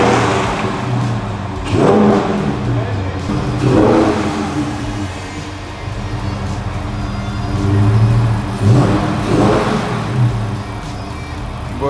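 Dodge Charger 6.4 V8 Daytona revving hard during a burnout, loud repeated throttle blips swelling and falling about every two seconds over a deep rumbling idle, with faint voices in the background.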